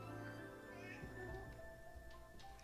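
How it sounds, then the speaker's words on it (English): A cat gives a short meow, faint and close, against a steady background hum with a low voice in the room. "What are you meowing me for?"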